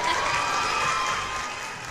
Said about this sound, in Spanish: en este momento se escucha un aplauso